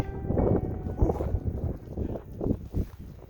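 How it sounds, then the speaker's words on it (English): Strong wind buffets the microphone in rough, uneven gusts at a winter campsite during a snowstorm, a loud roaring rumble that swells and dips throughout. "We're in a little bit of a lull right now for the wind, but it's gusting quite hard."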